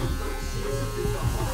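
Wahl Cordless Senior clippers with an aluminum body cutting hair, a steady close buzzing hum with a faint crackle of hair being cut.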